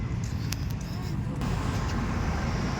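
Highway traffic running alongside Luneta Park makes a continuous broad roar of passing cars and other vehicles, fairly distant and steady, with a few brief higher-pitched swishes and faint background voices.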